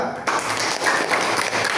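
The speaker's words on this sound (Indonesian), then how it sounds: "Ya, tepuk tangan untuk kelompok 2." Students applaud a presenting group in a classroom, a short burst of brisk clapping that starts suddenly and stays loud throughout.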